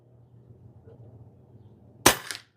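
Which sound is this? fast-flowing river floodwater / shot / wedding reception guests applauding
shot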